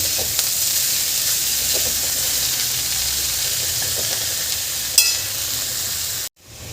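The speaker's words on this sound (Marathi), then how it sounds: "भाजी आपल्याला अशी छान परतवून घ्यायची आहे" Chickpea leaf bhaji sautéing in a pan over low to medium heat, a steady close sizzle with light stirring scrapes, one brief louder clink near the end before a sudden cut.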